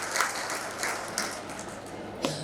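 An audience at a Jain religious gathering claps in a short burst of applause, a dense, moderately distant patter with a few louder swells.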